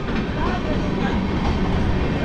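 The Kulik Express rolls past at Tarapith Road station in a loud, continuous rumbling roar of wheels and carriages, close by and steady throughout.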